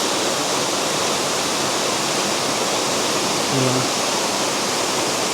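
A waterfall at a nature park roars in a steady, loud rush of falling water, constant throughout, with a brief spoken voice near the end.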